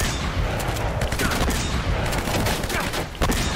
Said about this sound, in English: I'm just gonna keep shooting at the same damn person until he's dead